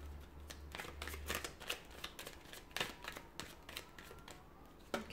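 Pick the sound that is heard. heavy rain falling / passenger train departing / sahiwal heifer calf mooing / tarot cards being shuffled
tarot cards being shuffled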